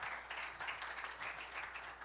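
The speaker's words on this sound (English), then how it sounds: "A big round of applause, please." Applause from a panel audience at a sports and entertainment conference, a faint, steady wash of clapping that runs evenly and a little distant for about two seconds.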